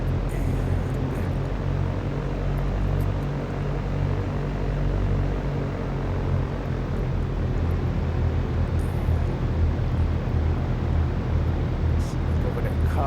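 Steady, loud engine drone of an aircraft preparing for takeoff in the flight simulator X-Plane 12, a continuous broadband roar with low tonal hum that holds evenly throughout.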